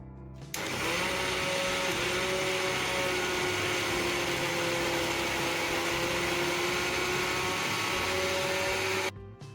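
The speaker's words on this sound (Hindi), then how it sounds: "इसे मिक्सर जार में निकालकर दाल को हमें बिल्कुल ही बारीक पीस लेना है" A mixer grinder pulverizes soaked moong dal into a fine batter, a loud steady motorized whir with a constant tonal hum running unbroken for about nine seconds before stopping abruptly.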